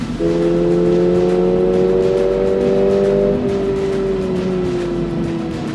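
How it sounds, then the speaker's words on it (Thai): A steady engine drone with a low humming induction tone heard from inside the cabin of a Subaru BRZ 2.4 with automatic transmission, holding constant then shifting slightly lower midway. "มันก็เป็นเสียง Induction Noise ที่ผมก็ว่า not bad อ่ะ"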